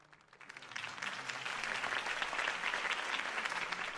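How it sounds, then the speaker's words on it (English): Crowd applause at a campaign rally in a Batman video game, swelling from quiet to a dense, steady roar of clapping that holds for several seconds. "could have heard that applause"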